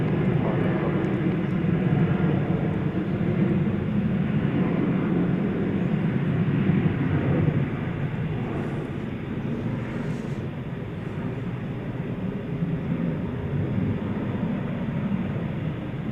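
Airliner at DFW Airport at night, a loud continuous jet engine roar that holds steady and eases slightly partway through, heard from nearby.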